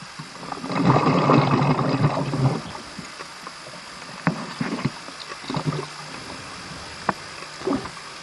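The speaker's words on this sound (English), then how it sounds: "The sounds you're hearing there are the divers below that's doing the filming." Divers filming below the surface on a dive near Gdańsk, with a rumbling, bubbling wash of underwater noise that swells loud early on, then settles into fainter gurgles and scattered clicks and knocks, with no voices.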